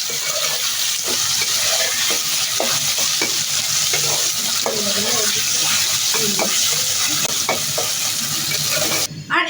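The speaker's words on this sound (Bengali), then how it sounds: "আর এখন আমরা দিয়ে দিব হচ্ছে আদা রসুন বাটা, এটা হচ্ছে জিরা বাটা, আর হচ্ছে গরম মশলা বাটা, সব একসাথে দিয়ে দিব।" Beef cooking in a pan as ginger-garlic, cumin and garam masala pastes are added and stirred in, a continuous close sizzle with scraping stir strokes and a clatter at the end.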